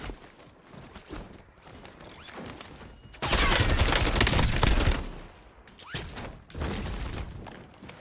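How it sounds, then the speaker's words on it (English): Call of Duty Warzone gunfire, scattered shots at first, then a loud sustained volley in the middle and another burst near the end, close and harsh. "Taking fire! Enemy soldier incoming."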